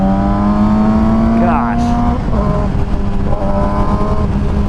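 A 2007 Yamaha YZF R6 motorcycle ridden on a mountain road, its exhaust droning loudly with pitch climbing and shifting through gear changes, while a rider briefly speaks over it.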